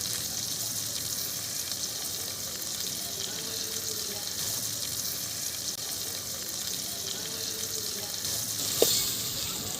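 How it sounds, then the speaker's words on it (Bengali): Chicken leg pieces coated in masala fry in hot oil in a wok while being stirred, giving a steady, even sizzling hiss throughout with one brief sharp clink near the end. "লেগ পিস সহ মশলা তেলের মধ্যে দিয়ে দেওয়া হয়ে গেলে এখন আমি একটু নেড়ে দিচ্ছি"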